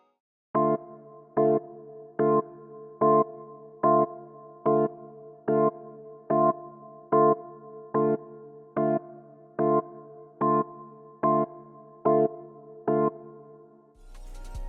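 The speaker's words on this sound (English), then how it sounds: "I'm using this plugin called Diva, and I'm using the preset MK Organ Relaxed." An organ-like chord stab from the Diva synth's MK Organ Relaxed preset lands on the offbeat, about sixteen evenly spaced short chords in a steady rhythm, clear and alone with no voices.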